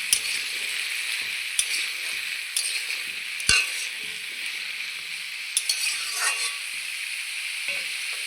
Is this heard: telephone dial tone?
no